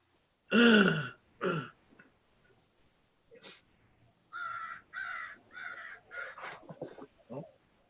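Loud, harsh caws from crows, a couple of strong calls followed by a series of repeated cawing, fairly close with quiet gaps between.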